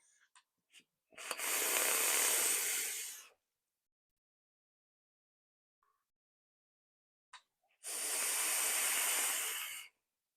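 Two long breathy hissing draws from a vape, each about two seconds, separated by a quiet pause, with faint clicks and crackle around them and no talk.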